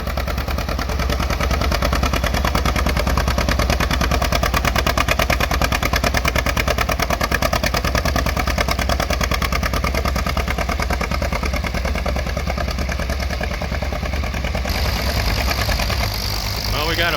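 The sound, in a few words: Farmall M tractor engine pulling a John Deere plow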